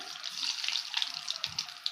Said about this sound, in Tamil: இப்போ கடுகு நல்லா வெடிச்சிட்டு